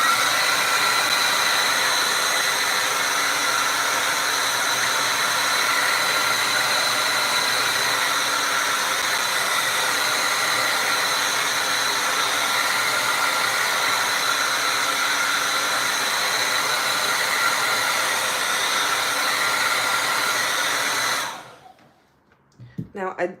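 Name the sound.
hair dryer drying acrylic paint on a cat painting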